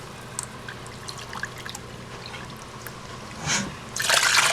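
Vinegar poured into a measuring cup for pickling okra, a soft trickle of liquid with small clinks, swelling into a louder splashing pour near the end.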